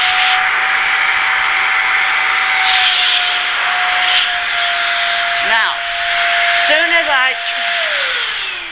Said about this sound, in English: as soon as I have turned off that vacuum, I want to immediately tie off this nylon stocking